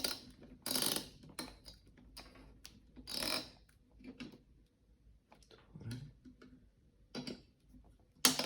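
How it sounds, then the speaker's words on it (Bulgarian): Bolts are tightened in a crosswise pattern while a PC is assembled, heard as quiet, scattered ratcheting clicks and small metallic ticks in short bursts separated by near-silence. "сега затягаме болчетата на кръст"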